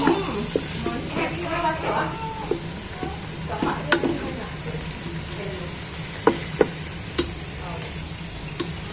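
Minced meat with onion and oil frying in a pan, a steady close sizzle with occasional sharp clicks and scraping stirs throughout.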